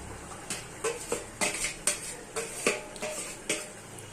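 Fried cauliflower goes into a pot of simmering fish curry amid close metallic clinks and scrapes of a spoon, roughly two strokes a second, with no talking.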